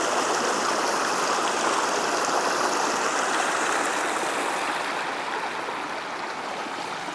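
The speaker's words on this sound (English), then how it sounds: "this is Cedar Creek as it works its way down from Julian downstream" Cedar Creek near Julian flowing over rocks in winter, a steady loud broadband rush of water close by that eases slightly toward the end, with no voices.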